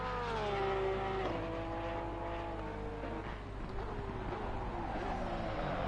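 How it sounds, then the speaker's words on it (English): A GT race car from the Assetto Corsa Competizione racing game brakes hard at Laguna Seca, its tyres squealing in high wavering tones over a loud engine whose pitch falls, then settles, in one short continuous stretch. "Oh, hear the tyre squealing, he's on the brakes hard there."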